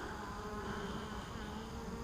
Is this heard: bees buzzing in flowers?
yes